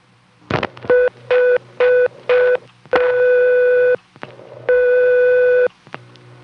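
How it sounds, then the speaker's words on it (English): A stepping switch telephone exchange plays a ringback tone in short clicking bursts and longer steady tones, loud and close on the line, with switching clicks between pulses until it goes quiet. "I'm going to try to find a way to get this ringback circuit to go silent."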